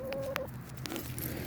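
Chickens near a potato patch give a quick burst of short clucks and soft scratchy pecking, close by and brief.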